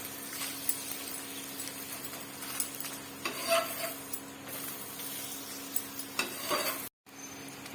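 Veg roll frying in oil in a pan, a steady close sizzle with occasional scrapes and taps of a utensil against the pan.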